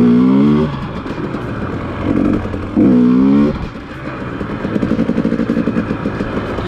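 A dirt bike engine revs hard in short bursts during a wheelie attempt, rising and falling twice before settling into a rough, steady running drone. Loud and close throughout.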